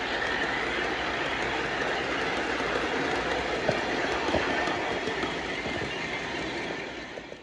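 An Ace Trains O gauge LMS diesel model locomotive runs along track with onboard sound, a steady engine drone with faint rail clicks, close and unbroken, with no speech.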